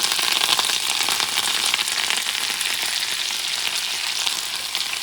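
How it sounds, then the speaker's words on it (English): Parsley sizzles in a hot, preheated cast iron pan, a loud, dense, steady crackle and hiss that continues without a break. "Cast iron, hot, preheated. I'm going to start with the parsley."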